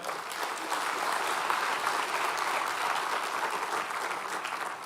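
A crowd applauds steadily, a dense, sustained clapping that holds at an even level throughout.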